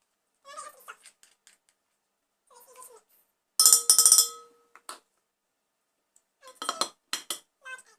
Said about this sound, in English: You just take your big bowl and just put all the ingredients in and mix together well.